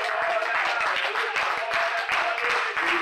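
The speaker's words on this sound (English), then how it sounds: "let's clap our hands to Jesus" A church congregation claps its hands in unison, keeping a steady rhythmic beat over a sustained musical tone.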